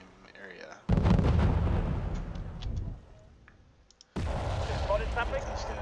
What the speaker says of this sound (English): it dropped artillery on that same area